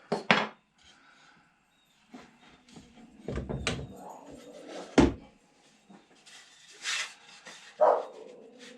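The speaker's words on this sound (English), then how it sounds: "Crazy dogs." Dogs bark in a few short, loud bursts that are scattered between knocks and clatters from nearby woodworking on a box.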